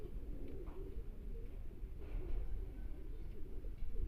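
Pigeons or doves coo softly in low repeated phrases amid quiet background bird sounds, with a brief knock at the very end.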